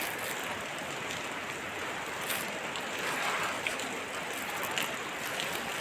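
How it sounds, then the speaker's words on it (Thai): Rain falls steadily, a continuous broadband hiss of drops heard from indoors, even in loudness with a few faint ticks and knocks standing out, no voices. "ส่วนนี้ก็ฝนตกเนาะ"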